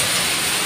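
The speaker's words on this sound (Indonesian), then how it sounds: "untung hujannya nggak begitu deras ya" Light rain patters steadily on an umbrella held while walking home through wet streets in Taiwan, a dense, close hiss that stays even throughout the brief moment, with no voices.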